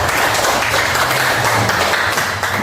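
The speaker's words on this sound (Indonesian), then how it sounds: "Tepuk tangan buat kita semua." A classroom of students claps together in a short, full burst of applause, steady and fairly loud throughout with a faint low hum beneath and no talk.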